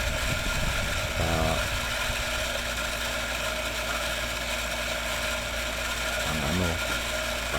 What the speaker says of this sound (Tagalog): yung motor nito, mga 1 horsepower. Tumutunog ng naririnig niya